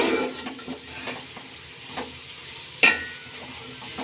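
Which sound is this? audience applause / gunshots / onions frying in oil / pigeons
onions frying in oil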